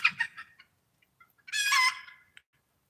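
Chickens in a flock harassing a newly added rooster give a few quick clucks, then a short loud squawking cry from one bird, with quiet gaps between the calls.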